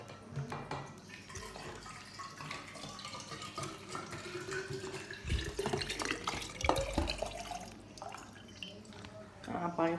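Water trickles and splashes into a bottle while the pitch rises as it fills. Drips and clatter are heard, with someone talking faintly nearby.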